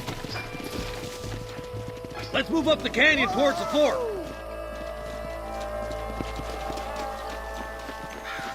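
Hooves clop at a slow walking pace under a man's speech in the video game Red Dead Redemption, with a brief whinny and a low ambient drone behind.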